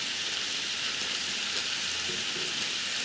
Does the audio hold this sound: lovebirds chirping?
no